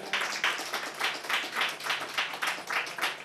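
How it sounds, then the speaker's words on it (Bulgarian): Brief burst of applause from a small studio audience during a Bulgarian talk show, steady clapping throughout with no talking. "Аплодисменти."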